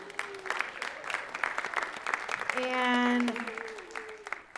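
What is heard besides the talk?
audience applause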